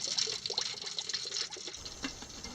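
A small Hotchkiss artillery shell bubbles in hot wax, giving a steady fizzing, crackling wash of fine bubbles close by with no talk.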